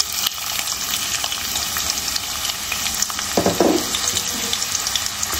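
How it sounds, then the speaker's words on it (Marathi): Chopped onion frying in hot oil as the tempering for a buffet-style veg pulao: a steady, close sizzle throughout, with a brief burst of stirring and clatter near the middle and no talking. "आपण जो कांदा चिरून घेतलाय तो घालणार आहे पहिला."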